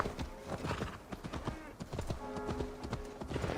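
Rhythmic clip-clop of horse hooves trotting steadily in the video game Assassin's Creed Valhalla, with a brief whinny and some faint background sounds.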